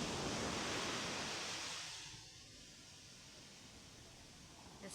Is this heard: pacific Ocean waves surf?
yes